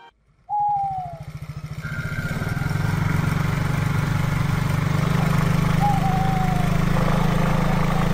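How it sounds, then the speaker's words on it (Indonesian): A motorcycle engine starts and rises into a steady ride on a quiet road at night, a close, droning hum that builds over the first few seconds, with two brief whistle-like chirps on top. "Sekitar pukul 11 malam, Ari melajukan motor menembus dingin."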